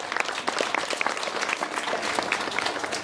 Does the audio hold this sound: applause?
yes